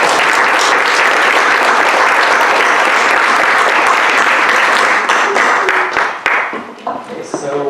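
Attendees at a planning council meeting give loud, dense applause that holds steady and then thins into scattered claps near the end.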